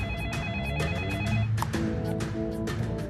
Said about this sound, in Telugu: మిస్టర్ యాంటోనీకి ఫోన్ ఇవ్వండి సార్